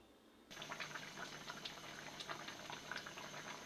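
A pot of rui fish and potato curry, with fried fish pieces added to the broth, starts bubbling after half a second and keeps up a close, steady simmer of small pops, with no voices.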